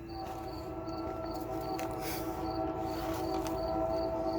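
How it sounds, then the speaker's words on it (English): A passing train heard from a backyard barbecue with an offset smoker, a low continuous rumble and rolling clatter rising slightly in loudness, faint and distant, with insects chirping in a steady pulsing pattern over it. "Now the train's coming."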